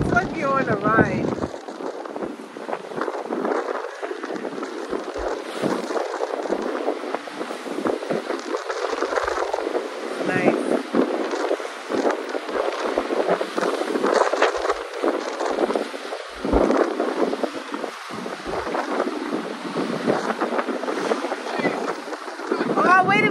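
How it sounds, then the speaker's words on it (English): A fishing boat in the Gulf runs over choppy water, with constant rushing wind and splashing waves slapping the hull throughout, loud and close, with a voice heard briefly over the roar. "the water is choppy. You see how the waves are going up?"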